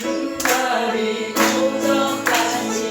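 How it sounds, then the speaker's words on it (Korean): Church congregation at a Sunday afternoon service singing a hymn together, with sung voices carrying a steady melody and hand claps faintly marking the beat beneath the singing. "박수 치면서 한번 부르겠습니다"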